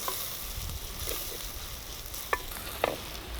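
Onions sautéing in a pan with mint and coriander leaves for a vegetable kurma, a soft steady sizzle with a couple of sharp scraping stirs near the end.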